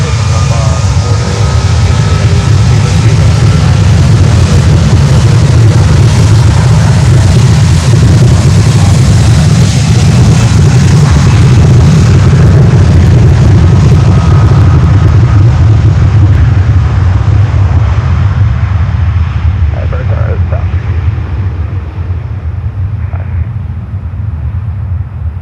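A heavy cargo jet at Miami airport rolls down runway 9 on takeoff, a loud, steady low roar that slowly fades and thins toward the end.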